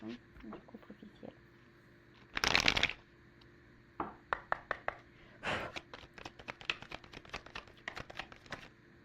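Tarot cards are shuffled and drawn by hand: a burst of riffling, then a run of quick crisp card flicks and taps, close and fairly quiet, with a few scattered soft handling sounds.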